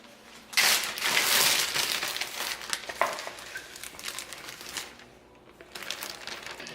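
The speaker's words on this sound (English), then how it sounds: "I'm gonna try a Ziploc baggie." Crinkly plastic zip-top bag being handled close up while baking muffins, bursts of rustling and crumpling that come and go, with quieter pauses between.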